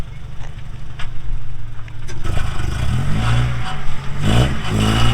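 The engine of a car built for the track revs up loudly after some clattering at the start, holding a strong, rising drone close to the microphone.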